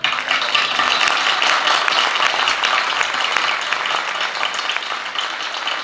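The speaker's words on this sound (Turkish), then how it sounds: "korumuz da şimdi gönülden sizi alkışlıyor" A choir applauding a concert audience, dense hearty clapping that carries evenly throughout, fairly loud and with no talk over it.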